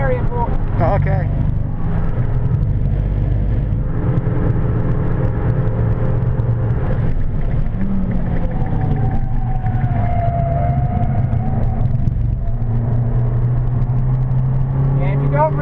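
Abarth 695 Biposto on track at Silverstone heard from inside, a low engine drone rising and falling through downshifts while people talk over it throughout.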